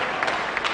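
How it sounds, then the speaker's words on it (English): Studio audience at a TV game show bursting into applause and cheering, a short dense burst of clapping close and loud. "the crowd are going wild here"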